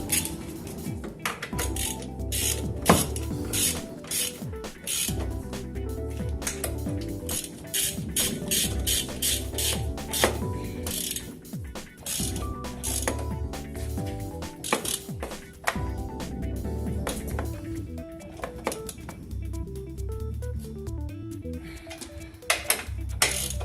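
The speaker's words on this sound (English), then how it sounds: "let's bolt it back up." A ratchet tightens bolts as a transmission mount is refitted on a turbocharged TT fitted with a GTX2867R turbo, a long run of busy metallic ratcheting clicks and clanks of tools, close and steady.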